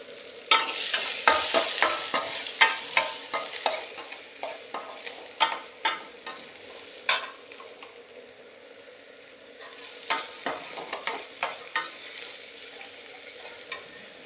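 Sliced small shallots and large onions sizzle in a hot pan while a spoon stirs and scrapes them, giving a steady close frying hiss punctuated by sharp, repeated utensil clicks that come in quick clusters and then ease off.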